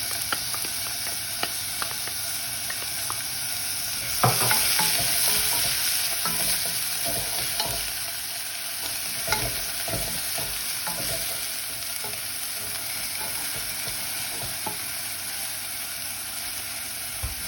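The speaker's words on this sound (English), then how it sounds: "Now can you hear that sizzling sound? Shows that the oil was nice and hot." Chicken parmigiana frying in hot oil, a constant crackling hiss with occasional clicks and a louder burst of sputtering partway through.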